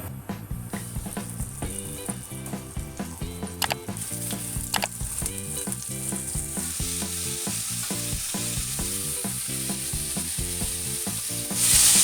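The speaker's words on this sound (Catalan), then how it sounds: "amb l'oli ben calent el posem a fregir" Steady crackling sizzle of salt cod frying skin-side down in hot oil, with a rhythmic mechanical clicking pattern running underneath throughout, and no talking.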